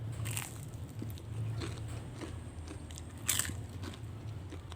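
Crisp crunches from someone biting into battered, deep-fried tempeh that was marinated and dipped in sweet chili sauce; a few close, sharp crackling bites over a quiet background.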